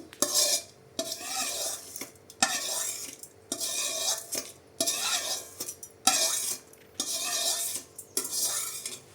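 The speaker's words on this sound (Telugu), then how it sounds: "ఇందులో మనం పోపు వేసేసుకుందాము" Repeated bursts of sizzling and stirring with metal clinks as hot tempering is poured into chutney, each pass followed by a short pause, close and fairly quiet.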